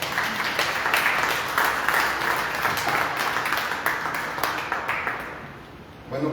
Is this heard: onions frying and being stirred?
no